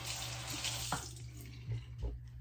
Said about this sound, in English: quickly rinse my hands off